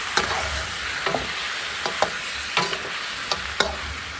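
Chili peppers dropped into a hot wok with ginger, garlic and Sichuan peppercorns while braising garlic pork trotters, a loud continuous sizzle and hiss punctuated by repeated metallic scrapes of a spatula stirring.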